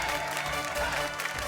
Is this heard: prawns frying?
no